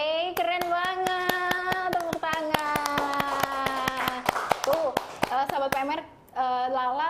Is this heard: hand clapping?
yes